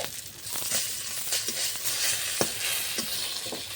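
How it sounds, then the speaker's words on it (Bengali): Bhetki fish paturi wrapped in bottle gourd leaves fries in a covered pan with a steady close hiss, broken by scattered soft clicks and a few sharper pops as the parcels are turned. "ঢাকা দিয়ে দিয়ে একটু উল্টে পাল্টে ভেজে নিতে হবে"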